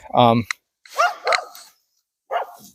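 A solid liver German Shorthaired Pointer gives one short, close bark. A person then speaks in a few brief bursts with pauses between them.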